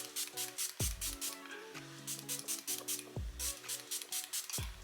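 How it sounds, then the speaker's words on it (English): Milani Make It Last setting spray is misted in a rapid run of about eight short hissing bursts, close and fairly quiet, with a soft tonal hum beneath. "I'm gonna spray some more of the Milani Make It Last setting spray"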